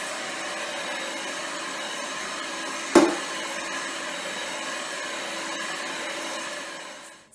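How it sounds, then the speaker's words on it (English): A foam bubbles mixture is whisked in a steady, loud whirring rush that runs continuously, broken by a single sharp knock near the middle, then cuts off at the end; no one talks. "So you can have fun whisking."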